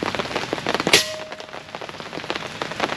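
Heavy rain patters steadily on surfaces outdoors on a hillside during airgun shooting, with a sharp short impact near the start cutting through the even downpour.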